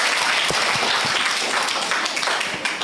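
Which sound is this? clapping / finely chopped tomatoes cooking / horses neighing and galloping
clapping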